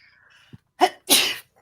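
A sneeze during a casual online holiday hangout, with two sharp bursts close together after a faint breath, loud and close with no talk over it.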